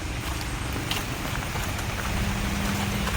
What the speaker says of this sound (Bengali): আবার বৃষ্টিও চলে এলো